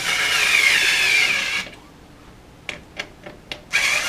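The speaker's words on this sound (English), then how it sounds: "I've got a little not overly powerful hand tool or hand drill here, and we just start tightening" A small hand drill tightens screws on a screen-printing frame, whirring steadily for about a second and a half, then stopping; several short bursts follow as it is pulsed in quick stops and starts.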